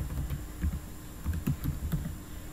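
Keys clack on a computer keyboard as a command is typed, light irregular taps in small clusters, close and clear with no voices.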